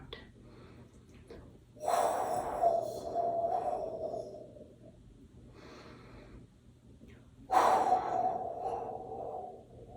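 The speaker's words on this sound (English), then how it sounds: "It'll sound like a storm in the back of your throat." Deep, rasping breath drawn through the back of the throat like a storm, part of a healing-sound exercise for the digestive system; two long, faint, airy exhalations separated by quiet pauses.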